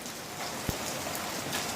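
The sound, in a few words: heavy rain falling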